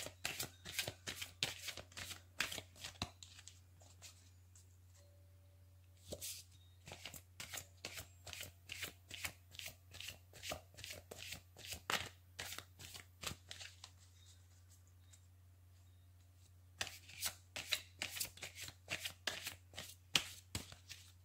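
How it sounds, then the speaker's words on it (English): Tarot cards are shuffled in quick crisp riffles and taps, a steady run of sharp snaps with a short pause midway and another near the end, close and quiet. "I will shuffle the cards and pull three cards from each deck"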